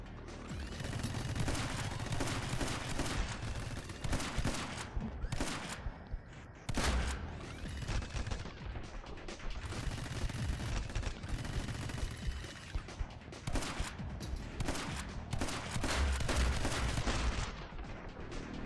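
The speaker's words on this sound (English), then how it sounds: "So the shotgun is actually doing fairly decent. At least it's hitting him, it seems." Shotgun blasts in the side-scrolling shooter My Friend Pedro, fired in a dense, near-continuous barrage of loud booming shots that keep up for the whole stretch, with game effects layered underneath.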